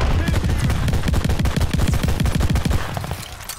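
Rapid bursts of automatic gunfire from the Call of Duty: Vanguard video game, loud and dense, rattling continuously before thinning out at the end.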